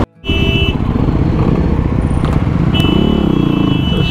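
A 390 motorcycle ridden at high speed on a road, its engine droning loud and steady after a short quiet start, with wind rush and passing traffic noise.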